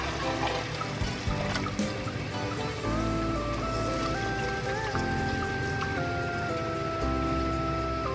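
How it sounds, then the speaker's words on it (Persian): Three glasses of water poured into a cooking pot in a home kitchen, a steady trickling splash running for several seconds with brief pauses, moderately loud and close. "3 گلاس آب میریزیم."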